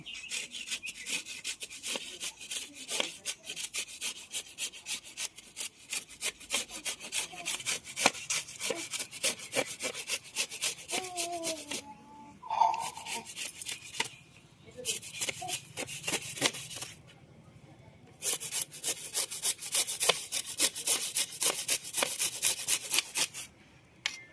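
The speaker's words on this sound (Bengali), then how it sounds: "স্ট্যাপারে আমগুলোকে ঘষে নেব।" Peeled raw mangoes are rubbed against a grater in a kitchen, making quick, rhythmic rasping strokes that run steadily, broken by a few short pauses.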